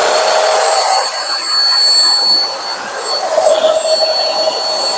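A hair dryer starts up on a 12-volt battery bank through a JINSI Amorphous off-grid inverter, a loud steady whoosh of fan and rushing air with a high whine running throughout, no voices.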